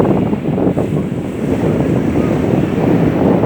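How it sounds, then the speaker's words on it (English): Sea waves surging at Sunset Beach, Dubai, a steady loud wash of surf blended with heavy wind buffeting the microphone, continuous and unbroken throughout. "The wave is coming now."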